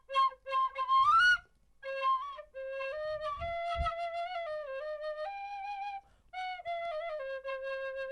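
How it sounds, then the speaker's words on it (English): A tin whistle in C plays a film theme melody, clear sustained notes in a slow lyrical line with brief pauses, close and alone apart from a few soft handling thumps. "this is something that Irish kids learn in school, and this is a tin whistle"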